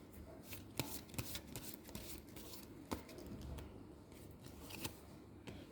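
Tarot cards being shuffled and drawn by hand, a dense run of quick papery riffles and flicks with a few sharper snaps, close and fairly quiet, with no talk over it.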